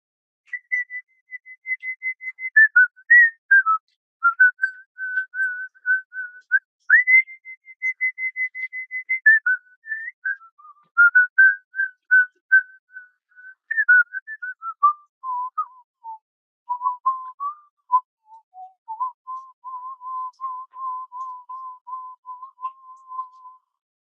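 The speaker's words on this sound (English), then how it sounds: "the medicine is basically in these Icaros, in these whistles" A solo whistled Icaro, an Amazonian ceremonial healing song of gratitude to Mother Earth, carries a clear, steady melody in short, connected phrases. The pitch drifts gradually lower over the passage, with brief breaths between phrases and no voices.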